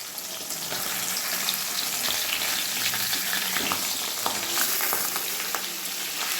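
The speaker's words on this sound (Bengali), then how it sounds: "জিওল মাছ ভাজার সময় সবসময় খেয়াল রাখতে হবে গ্যাসের ফ্লেম মিডিয়ামে রেখে তবেই ভাজতে হবে" Jiol fish fry in hot oil over a medium gas flame, giving a continuous close sizzle with scattered crackles and spits, with no voices.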